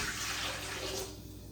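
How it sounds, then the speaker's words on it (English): A warm mixture of water, milk and melted butter pours steadily into a bowl, a close, continuous splashing wash that thins toward the end. "So in here I have 1 cup of water, half cup of milk, 2 tablespoons of butter, and I'm going to pour it in here."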